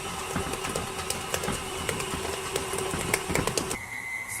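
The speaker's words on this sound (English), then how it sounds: "It's shaking a lot, but that's normal for KitchenAid." A KitchenAid stand mixer kneading pandesal dough, a steady close mechanical hum and rattle with rapid knocking from the shaking machine, continuous throughout with no talk.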